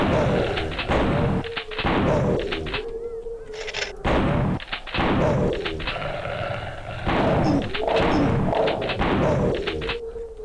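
Video game gunfire in Killing Time fires in repeated loud bursts of booming shots, some in quick runs, with short gaps between volleys and no talking.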